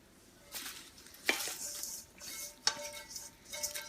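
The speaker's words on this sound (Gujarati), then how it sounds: "ખાલી આપણે વઘાર નાખશું એની અંદર." Hot oil tempering poured over a chevda mixture of chips and snacks crackles and sizzles, with a few sharp utensil clinks and spoon taps among the fizzing, close and moderately loud.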